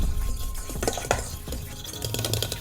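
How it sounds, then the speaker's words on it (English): A fork mixes finely chopped anchovy fillets in a bowl, making quick, close scraping and clinking strokes in an irregular stirring rhythm. "with a fork, I'm gonna mix this really well"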